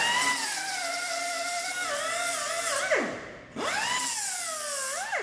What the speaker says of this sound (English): the reason I'm using the needle scaler, it's just to remove any of the weld spatter that is stuck in the corners